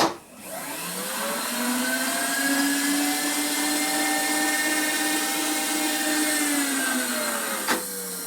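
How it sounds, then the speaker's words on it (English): A rotary deburring tool whirs steadily on the first thread of a bolt hole in a 1961 Harley-Davidson FL 74ci panhead engine, spinning up at the start and holding a close, high, sustained whine until a brief stop near the end. "now we got to do a little deburr on a first thread"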